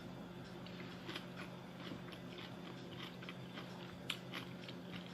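Soft crunching and chewing from someone biting into coleslaw served alongside an air-fried Cajun shrimp and hush puppy meal, faint and close, partly buried under steady background hiss.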